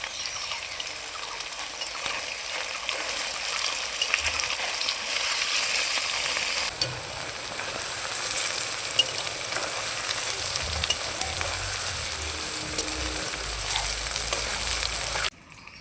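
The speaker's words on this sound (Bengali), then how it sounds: "পনিরগুলোকে উল্টে ভেজে নিচ্ছি।" Paneer cubes dusted with red chilli powder frying in a pan as they are turned: a steady, close, dense sizzle that drops slightly partway through and continues evenly until it cuts off at the end.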